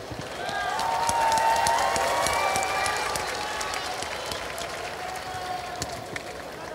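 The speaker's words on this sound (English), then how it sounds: "How about a round of applause for both of these fighters?" A crowd claps and cheers for both fighters after a three-round bout in an octagon, with dense, steady clapping that swells early and slowly thins, under faint voices.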